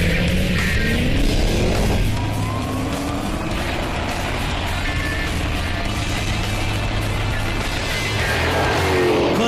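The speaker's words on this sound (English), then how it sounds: "These two cars are just begging for an old-school drag race." A Shelby Super Snake and a Dodge Challenger run a straight-line drag race, engines roaring loud and constant with rising and falling revs through gear changes, possible tire squeal, and no clear talk over it.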